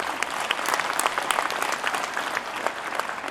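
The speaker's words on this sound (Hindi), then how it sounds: "तो एक जोरदार ताली माता पिताओं के लिए है।" A school annual day audience claps loudly in continuous, dense applause with no break.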